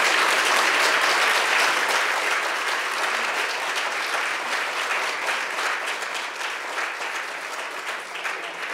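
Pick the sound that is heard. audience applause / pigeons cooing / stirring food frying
audience applause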